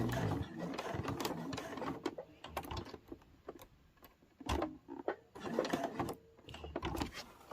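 A domestic sewing machine stitching a fabric mug rug runs in short, rapid bursts separated by brief pauses, its close mechanical whirr starting and stopping repeatedly.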